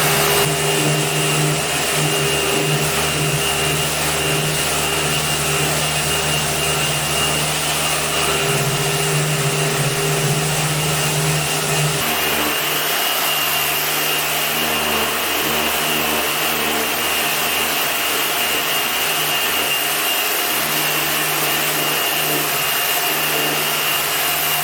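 A continuous loud whirring of a Festool random orbital sander working pine wood, its pitch and texture shifting midway, with an attached vacuum droning underneath.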